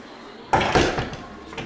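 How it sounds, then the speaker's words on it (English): A door shuts with a soft thump and brief rattle, followed by a few faint knocks and shuffles in a quiet room. "I'll close the door until we come back."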